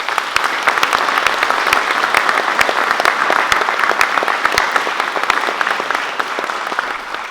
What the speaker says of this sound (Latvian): Aplausi jums!